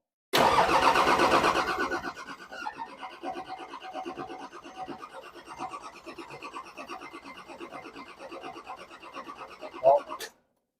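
A Nissan GQ Patrol diesel engine cranks and fires loudly up close, then settles into a rough, rattling idle that runs for several seconds before shutting off, with a short louder burst near the end.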